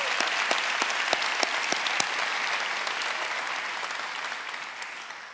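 Warm applause from a church congregation swells across the room, a dense wash of claps with a few sharp individual strikes early on, then slowly tapers and fades.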